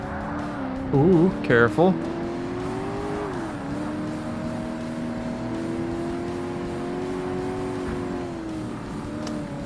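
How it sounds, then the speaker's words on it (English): A Corvette racing engine in Forza Motorsport on Xbox, a steady droning rev that rises and dips through gear changes, with a man briefly exclaiming over it early on. "Hear a Corvette."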